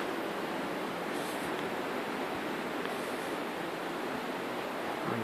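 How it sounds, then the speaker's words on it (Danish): Water from an underground river flows through a huge cave in Vietnam, a steady, dense rushing roar that fills the whole space without pause, with no voices over it. "Vi kan høre vandet i baggrunden. Det her, det er den anden underjordiske flod, der kommer her."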